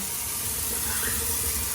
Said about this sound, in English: put hot water over it